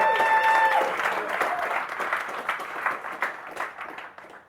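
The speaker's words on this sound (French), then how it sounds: "Un tonnerre d'applaudissements, s'il vous plaît" A live audience at a French marketing talk breaks into loud, dense applause that starts strong and gradually thins out over a few seconds, with faint voices mixed in.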